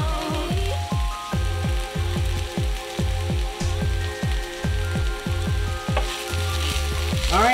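Peppers fry in a pan for a Mediterranean pasta, giving a steady close sizzle with a regular pulsing crackle as they catch and stick, and no voices.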